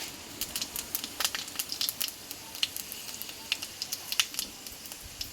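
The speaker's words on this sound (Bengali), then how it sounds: "আর এখানে দেবো হাফ চামচ মতো পাঁচফোড়ন" Panch phoron spices sizzle in hot mustard oil in a kadai, giving a soft background fry broken by many sharp, irregular crackles and pops close by.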